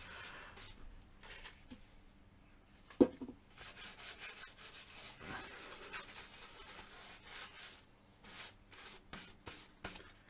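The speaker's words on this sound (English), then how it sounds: "Just put a few blobs on and then I can just wipe that, and you can see how it's removing the excess." Paper towel wiping coloured wax across a turned wooden piece with open, cracked grain, a soft scratchy rubbing in repeated strokes with one brief knock partway through, fairly quiet and close.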